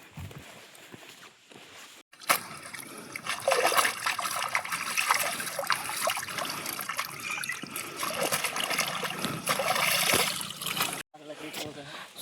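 Leaves rinsed under steady running water, a continuous splashing trickle close by that starts abruptly and cuts out near the end, with quieter handling sounds before and after.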